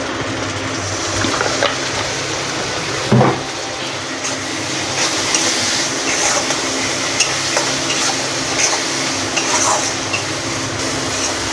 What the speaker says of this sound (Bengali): আদা বাটাটা দেবো, আর জিরে ধনের গুঁড়ো দিয়ে আর একটু জল দিয়ে ভালো করে নেড়ে চেড়ে আমি কষে নেব